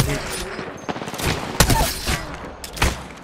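Gunfire in a shooter video game: a fusillade of rapid shots with several sharp loud cracks over a few seconds, with a player's voice talking at points.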